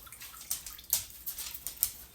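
Chicken broth is poured for an onion and mushroom gravy, giving a faint watery trickle and splash. Soft liquid sounds come close in a few brief bursts with small splashy accents, with no one talking.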